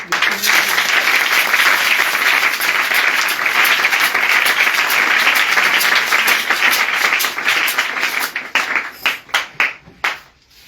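Loud church-meeting congregation applauding and cheering, a dense wall of clapping sustained for about eight seconds before breaking into scattered, fading claps near the end.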